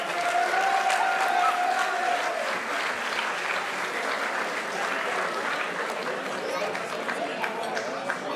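An audience at an awards ceremony breaks into steady, dense applause that holds at an even level throughout, with a murmur of voices and a brief sustained tone near the start mixed under the clapping.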